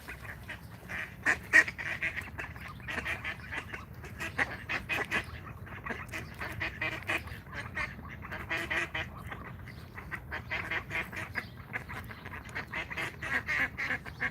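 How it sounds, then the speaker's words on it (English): Noisy ducks and geese quacking and honking in repeated bursts, close and busy over steady low background noise. "Why are we with such noisy ducks now?"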